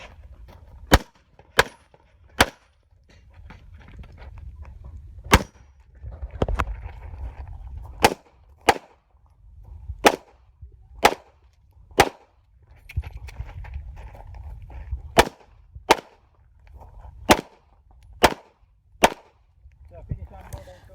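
Pistol shots crack out during an IPSC competition stage, about seventeen sharp, loud reports fired in quick bursts and pairs, with brief pauses and low rumbling movement between strings.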